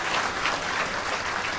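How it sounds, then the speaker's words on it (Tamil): Applause from the audience at a pattimandram debate during the Perambalur book festival, loud and continuous dense clapping that fills the whole moment without any voices over it. "நல்ல கைதட்டுங்க"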